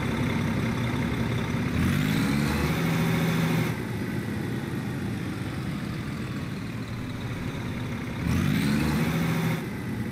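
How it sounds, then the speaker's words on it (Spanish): Detroit Diesel engine in a classic Freightliner Cascadia semi truck in American Truck Simulator, a steady diesel drone broken by two louder rev swells, close and with no voices. "¿Qué tal se escucha ese Detroit Diesel?"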